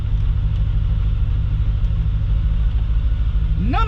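A 1996 Chevy C4 Corvette with its LT1 engine idles with a deep, steady, loping rumble close by, ending in a quick rising revving whine.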